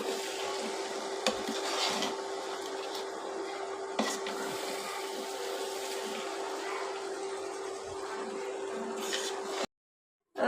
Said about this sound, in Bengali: এখন এই মাংসটা তেল ছেড়ে এসে মশলার মধ্যে দিয়ে দেব মাংসটা মশলার সাথে ভালোভাবে মিশিয়ে নিচ্ছি